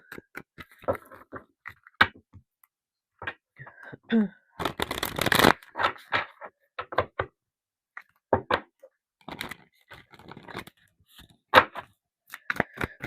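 Tarot cards being handled and shuffled close by, with irregular papery flicks, taps and a dense riffle burst midway, mixed with scattered soft knocks.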